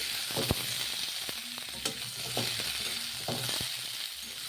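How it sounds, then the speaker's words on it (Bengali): Potatoes fry in hot oil with a steady, close sizzle, broken by a few soft clinks and stirring knocks, with no voices. "আলু মরিচ তেলে ভেজে নিচ্ছি"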